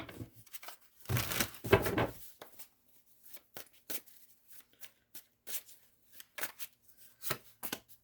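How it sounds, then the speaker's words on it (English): Tarot cards being shuffled by hand, heard as quiet, scattered riffling bursts and soft taps, with one longer flurry early on and short isolated clicks afterward, no one speaking. "Maybe I'll shuffle a little bit better."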